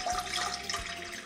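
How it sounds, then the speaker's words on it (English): Water splashes from a tap into a cooking pan in a kitchen, a short bubbly pour for steaming green beans, close and moderately quiet with no voices. "we're going to go ahead and add 1/2 inch to 3/4 inch of water to the bottom of the pan"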